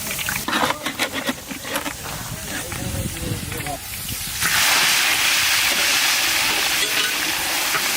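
Chopped onions hit hot oil already seasoned with bay leaf and whole garam masala for a mutton curry, setting off a loud, steady sizzling hiss that swells midway and continues to the end, after some earlier stirring clatter.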